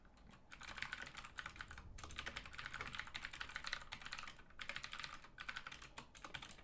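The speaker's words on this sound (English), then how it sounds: "You can hear me typing." Rapid typing on a computer keyboard during a livestream, a faint, steady patter of clicking keys running continuously, quiet and close.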